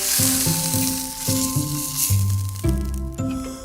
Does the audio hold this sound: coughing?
no